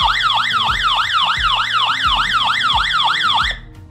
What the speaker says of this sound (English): and there you have a very loud way of signaling somebody nearby